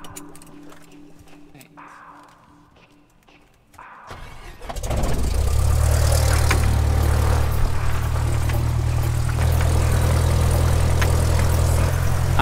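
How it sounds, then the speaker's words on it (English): A tiny propeller plane at Peru's Nazca Lines starts its engine: quiet cabin sounds first, then a rising whine that settles into a loud, steady droning roar filling the cabin up close. "this plane is so tiny!"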